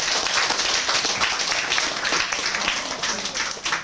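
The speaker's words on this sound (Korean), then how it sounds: "다 같이 하나님께 뜨거운 박수를 좀 보내주시면 좋겠습니다" Audience applause at a 2002 Christmas Eve church festival: a dense, steady wash of many hands clapping that runs the whole time, fairly loud and close.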